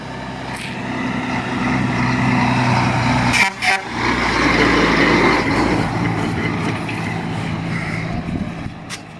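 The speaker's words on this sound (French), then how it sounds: "Évidemment, il fait coucou, il klaxonne" A passing truck sounds its horn in a couple of short toots over heavy road rumble, loud and close, with no talk.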